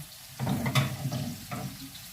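Garlic hisses and crackles in a hot pan, with a brief scrape of stirring; soft, close sizzling with no voices.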